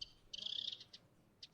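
A bird call processed through 3D audio reverb with default settings and a low-pass filter: a short whistled note, then a sustained tone and two brief repeated chirps, clear and moderately quiet.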